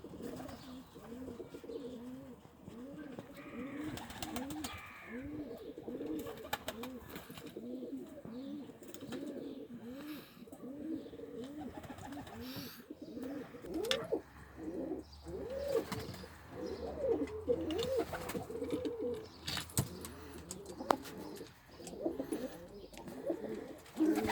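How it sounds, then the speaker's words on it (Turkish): Pigeons coo steadily in repeated throaty phrases outdoors, with occasional chirps and wing flaps over a quiet background hiss. "Gördüğünüz gibi kuşlar dışarıda."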